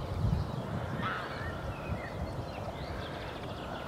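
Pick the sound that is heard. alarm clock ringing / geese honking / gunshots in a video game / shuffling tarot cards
geese honking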